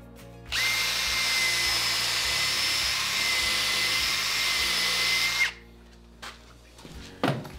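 Power drill driving screws into a wooden jig, one sustained whirring run of about five seconds that stops abruptly, followed by a few faint clicks and handling noises.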